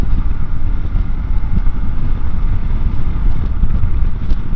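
A Hero XPulse 200 motorcycle engine roars loud and close on the road, revving hard as it climbs up through the gears, with heavy wind buffeting the microphone.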